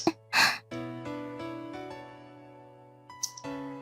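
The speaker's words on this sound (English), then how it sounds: "what I heard next was not the sound of cleaving flesh, but that of Kasumi's astonished gasp" Kasumi, a character in the visual novel Dies irae, lets out a single sharp astonished gasp, followed by a softer breathy intake, over a sustained low musical drone.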